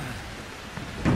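Steady rain with a rumble of thunder in the horror game Outlast 2, a constant hiss that swells into a low, louder roll at the end, with no talk.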